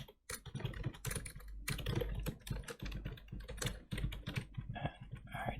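Fast, continuous typing on a computer keyboard during a live coding session, crisp close key clicks in an uneven rapid rhythm with no speech.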